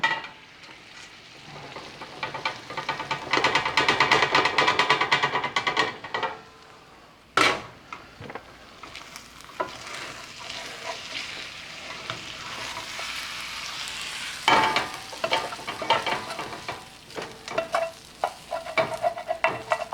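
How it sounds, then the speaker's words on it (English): Cooked meat for chili is stirred and scraped in a cast iron pot, with a steady sizzle, repeated scraping strokes and occasional sharp clanks of the utensil against the pot. "We'll give that a quick stir."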